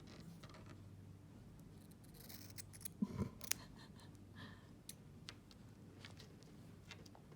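Scissors trimming a dog's fur during grooming, faint close snips and small metallic clicks scattered over a quiet room, with a brief cluster of sharper cuts midway.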